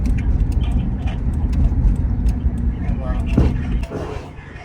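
A homemade car drives along with a steady low engine rumble and road noise throughout, close and loud, while people talk and exclaim over it.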